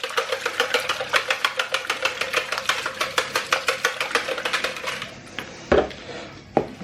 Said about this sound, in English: all I'm going to do is whisk that through